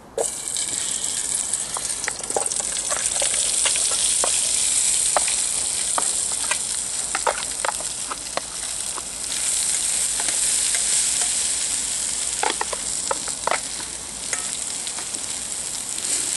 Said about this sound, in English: So let's see if it's going to sizzle.